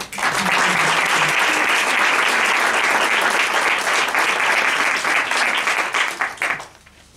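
Loud, sustained applause from an audience at a Women and Girls in Science Day event, steady for several seconds before thinning out and fading at the end.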